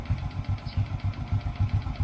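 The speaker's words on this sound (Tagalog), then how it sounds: "May kaunting lagitik eh, normal naman yun, yung ganun lagitik." A Honda RS 125 motorcycle with a carburetor idles up close, its engine thumping in a steady even rhythm with a slight light ticking over the low pulse, and no voices.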